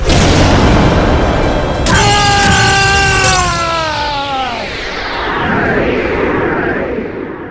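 A loud Yu-Gi-Oh Duel Links monster attack effect: a sharp shattering impact, then bright ringing tones sliding downward, fading into a rumbling boom and a swirling tail that dies away over several seconds.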